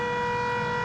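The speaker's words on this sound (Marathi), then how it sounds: "सायरन वाजला" A steady siren wails from a nearby company, holding a continuous tone with strong harmonics, loud and close, with no talk over it.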